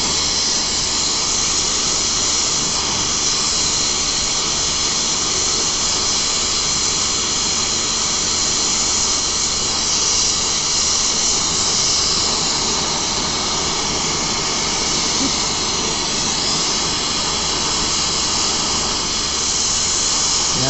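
A jeweller's torch roars in a loud, steady, unbroken hiss while melting silver for a dragon head pendant, constant throughout with no pauses.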